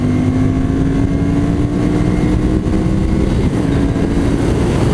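A 2014 Ducati Monster 796 motorcycle accelerates, its engine drone loud and close with a steadily rising pitch across five seconds, no talk over it.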